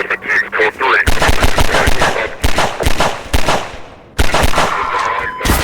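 Bursts of automatic gunfire aimed at an advancing enemy in Half-Life 2, loud rapid volleys in several separate bursts with brief pauses, a voice talking over them at the start.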